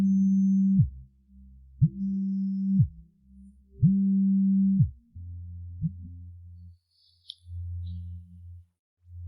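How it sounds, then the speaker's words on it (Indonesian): A phone rings in repeated electronic tone bursts, each about a second long with short gaps, followed by lower buzzing tones, clear and fairly loud with no talk over it. "Telepon siapa? Kenapa tidak diangkat?"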